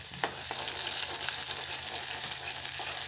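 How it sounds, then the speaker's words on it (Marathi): Finely chopped onion sizzles steadily in hot oil for a Kolhapuri-style village chicken curry, a close, continuous frying hiss with occasional stirring scrapes and no talking. "तेल चांगलं गरम झालं की त्यावर एक मध्यम आकाराचा बारीक चिरून घेतलेला कांदा टाकून घेतलेला आहे."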